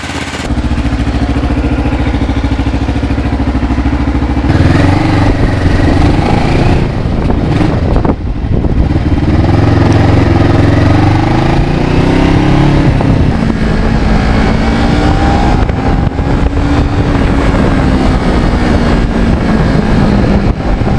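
A Kawasaki H1 motorcycle engine runs steadily throughout, loud and close, with a shift in pitch partway through. Strong wind noise blows across it.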